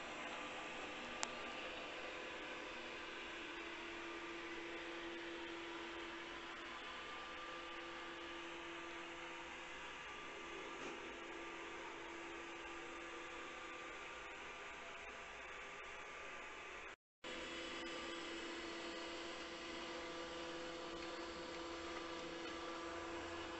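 A Multilaser robot vacuum cleaner runs with a steady, close whirring hum and broadband suction noise, a faint tonal whine on top, continuing alone with a brief cutout near the end before resuming.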